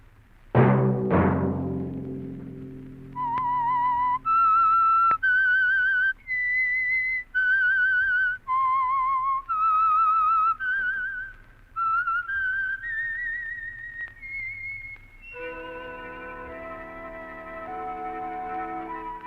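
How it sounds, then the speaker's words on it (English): A lone whistler carries the eerie theme tune of the radio show The Whistler, a clear, sustained melody of held notes with short breaks, ending on a soft orchestral chord. "Let that whistle be your signal for the Signal Oil program, The Whistler"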